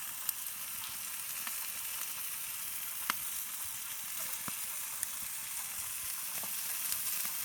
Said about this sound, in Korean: 카메라 잡고 이렇게 고기 굽기가 쉽지가 않네요.